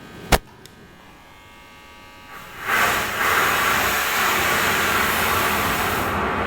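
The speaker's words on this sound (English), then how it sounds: "For modulation, there is a noise generator, which is a variable color" A synthesizer's variable-color noise generator produces broadband hiss after a brief click, surging in at about two and a half seconds and holding steady and loud, its tone shifting upward through the sweep.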